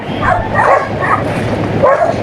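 A dog barks a few times, muffled and somewhat distant, over a steady background rumble at a seaside during a typhoon.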